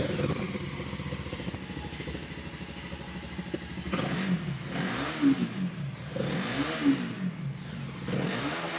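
Voge 300DS touring motorcycle engine idling low and steady, then revved in several rising and falling blips, close by and moderately loud, no talking.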